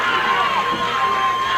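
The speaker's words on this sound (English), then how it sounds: "this crowd begins to scream" A wrestling arena crowd at a 1981 Ken Patera versus Dewey Robertson match roars and screams in a steady, dense wall of noise with shrill cheering, sustained and loud throughout.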